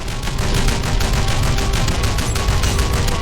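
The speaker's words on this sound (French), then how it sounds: "il y a un truc qui me tire dessus pendant que la cinématique se déclenche" Steady, dense gunfire from the video game Shadow Complex Remastered, with continuous rapid shots and bursts that fill the whole stretch at a loud, even level and no talk.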